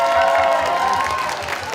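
Warm applause from diners at a church's 2016 Christmas dinner, a dense, steady wash of clapping filling the room with a little cheering mixed in.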